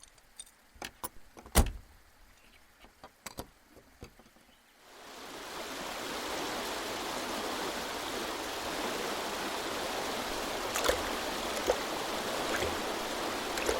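A swollen stream with risen water rushes past, a broad steady roar that swells in after a few seconds of quieter footsteps and knocks and then holds strong.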